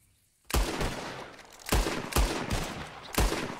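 Gunshots in the video game Red Dead Redemption 2 break a brief silence, loud close reports followed by several more irregular shots echoing over a few seconds, with no talk.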